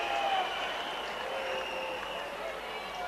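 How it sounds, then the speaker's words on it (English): A French stadium crowd jeers during a 2009 France versus New Zealand rugby test. It sounds like a steady, fairly distant wash of crowd noise that holds at a constant low level throughout. "Boos from the French crowd."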